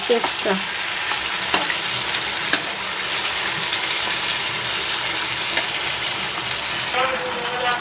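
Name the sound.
meat pieces frying in a pan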